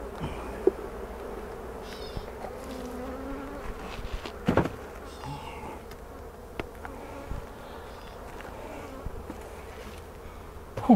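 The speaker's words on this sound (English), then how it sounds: "the honey supers are still full of bees." Steady buzzing of many honeybees around a hive with honey supers full of bees fills the air, with individual insects droning close by and passing, plus occasional faint clicks and knocks.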